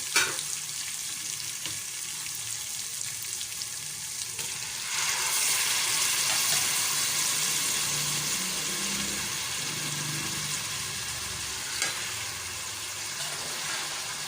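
Rice being fried with green masala for pulao, heard as a steady hissing sizzle that swells louder about midway, with occasional stirring scrapes, close up and no speech.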